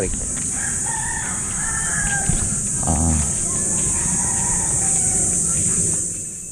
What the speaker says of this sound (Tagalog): Ay mga manok ko.